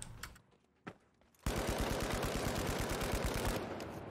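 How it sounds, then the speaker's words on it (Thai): Sustained automatic fire from the FCAR rifle in The Finals, a rapid, steady stream of loud shots lasting a few seconds after a couple of isolated bursts. "เดี๋ยวยิงรีคอยเอฟคาให้ดูด้วย"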